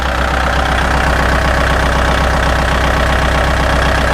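A Kubota L4708 tractor with its original diesel engine idles nearby, a loud, even, rapid knocking rumble that holds steady throughout with no voices.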